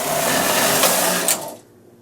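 A knitting machine carriage is pushed across the bed to knit a row for a 1x1 rib hat, making a loud, steady mechanical whir that ends after about a second and a half.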